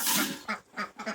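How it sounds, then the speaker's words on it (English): Ducks on a farm on a rainy day quack in a quick series of four or five nasal calls, close by, after a brief hiss of background noise. "Hey, ducks."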